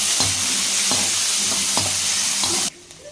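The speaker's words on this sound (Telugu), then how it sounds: "ఒక వెల్లుల్లిపాయలు ఒక రెండు కరేపకైతే వేసుకుంటాను నేను ఇదైతే గోల్డెన్ బ్రౌన్ వచ్చే వరకు వేయించుకుందాం" Garlic and curry leaves frying in oil until golden brown make a loud, continuous sizzle, with a spatula scraping the pan in four regular strokes before it cuts off abruptly near the end.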